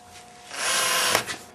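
A powered screwdriver drives screws and screw eyes into the back of a wooden picture frame, a single steady whirring burst lasting about a second with a brief tail, close and alone.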